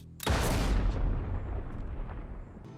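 A firing squad fires in a TV show: one sudden loud blast, then a long rumbling decay that fades slowly over a couple of seconds.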